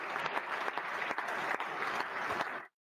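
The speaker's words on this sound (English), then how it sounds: "I gotta get my claps going too" Applause during a podcast recording, a short burst of steady clapping from a few people, fairly faint and close, ending abruptly.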